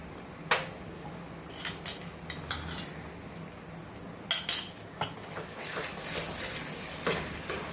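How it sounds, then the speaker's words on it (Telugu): A spoon stirs food colouring into Karachi halwa mixture in a pan, giving scattered metallic clinks and scrapes against the pan with short gaps between them, fairly close and moderately loud, with no one talking. "బాగా కలిసి ఇలా కలిపేసుకోవాలండి ఫుడ్ కలరు"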